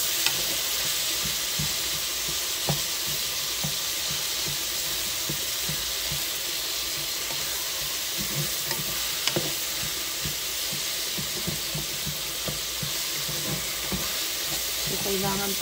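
Tomatoes and other ingredients frying in a pan, a steady close hiss and sizzle with occasional scrapes and clinks of a utensil stirring, continuous throughout without talk.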